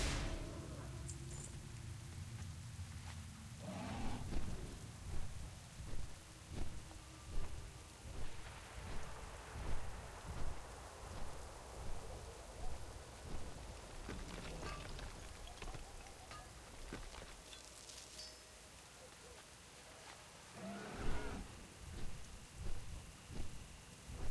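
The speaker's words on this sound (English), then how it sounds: "Oh, the fucking rain noise" Steady rain falls in World of Warcraft, a continuous hiss with low rumbling swells, and distant thunder rolls in a few times. It is heard alone, with no talk.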